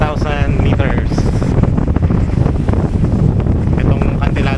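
Strong wind rushes past an outrigger-style boat as it moves over the deep open sea, with heavy, steady buffeting on the microphone and a voice talking underneath.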